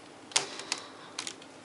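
A Dayan Zhanchi speed cube is turned by hand, giving a few sharp, clicky plastic snaps spaced unevenly over a moment, close and fairly quiet.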